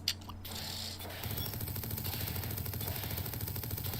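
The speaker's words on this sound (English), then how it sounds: "Yeah, rotary cannon." A rotary cannon fires in the video game TerraTech: after a brief mechanical whir, a rapid, steady stream of rattling shots runs continuously at close range.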